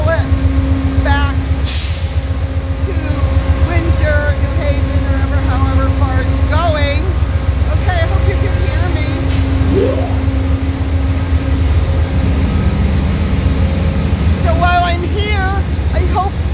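A CTRail passenger train's locomotive idles and pulls its passenger cars, a steady loud diesel rumble with a constant tone, air-brake hisses and squealing rail screeches throughout, while people talk nearby.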